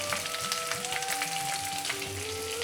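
Chopped onion, green chili, garlic and ginger with a spoonful of salt sauté in a pan for raw mango curry, giving a steady close crackling sizzle with faint stirring scrapes over a thin background hum.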